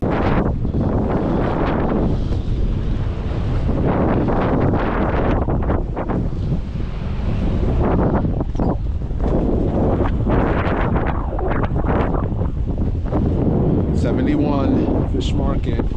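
Strong cold wind buffets a fishing boat out on the water during a bass trip, a steady roaring gusty rush that swells and eases, loud and close with heavy microphone buffeting.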